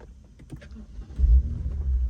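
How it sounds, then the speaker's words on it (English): A BMW 630i E64 convertible engine cranks and turns over, a low rumble rising after a few faint clicks, then settling into a steady idle nearby. "I'm going to switch on the car."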